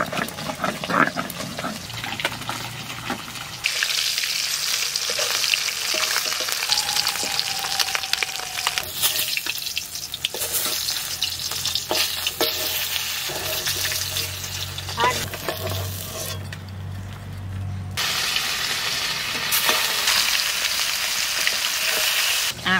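Fish frying in hot oil, a steady close sizzle running throughout with occasional stirring, water and kitchen clatter.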